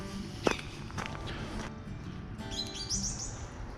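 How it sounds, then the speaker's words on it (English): A blackbird sings in short, bright phrases over crunching footsteps on frosty ground nearby. "Sounds like a blackbird. They've got a lovely song"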